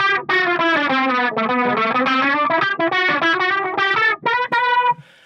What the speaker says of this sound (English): I crank up the chorus.